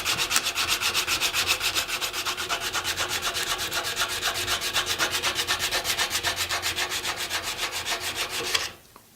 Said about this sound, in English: And also like sanding it.